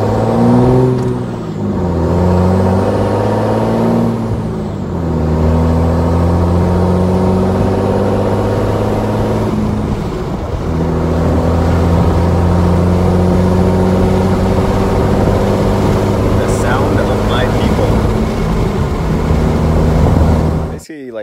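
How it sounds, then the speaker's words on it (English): A 2009 Dodge Ram with a 6.7 Cummins diesel, six-speed and silver bullet turbo, accelerating through the gears, with loud, close engine drone, rising and falling revs at each shift, and turbo whine over the exhaust. "let's see if you can hear the turbo and exhaust and whatnot"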